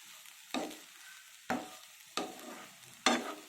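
Egg bhurji is stirred in a sizzling pan, with four sharp scraping strokes at a steady pace over a low background sizzle of frying.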